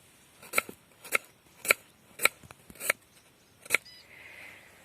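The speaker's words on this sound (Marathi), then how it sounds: "तर हे गाजर एकदम बारीक कापायचं आहे" Knife chopping carrots finely on a board for masale bhat, with about seven sharp, evenly spaced cuts that stand out clearly in a quiet room, then a faint soft rustle at the end.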